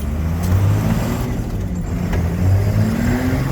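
A 1993 Cummins diesel truck accelerating, a loud, close engine roar with rising and falling revs and a deep rumbling drone under wind noise, no talking.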